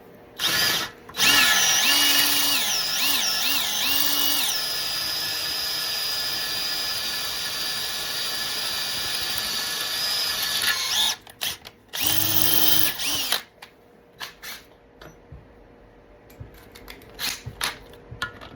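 A power drill whines steadily for several seconds, boring a 13/64-inch hole for thread repair, its pitch shifting as it bores, then stops and starts again in a few short bursts.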